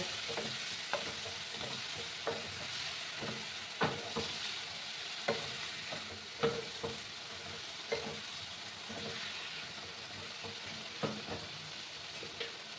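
Spice paste with a splash of water frying for a rohu fish curry with ridge gourd and potato, a continuous close sizzle broken by evenly spaced spatula scrapes against the pan.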